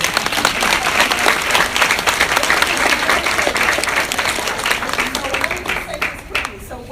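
Loud, sustained audience applause at a talk by Queen Afua, many hands clapping densely throughout with some crowd noise and voices underneath.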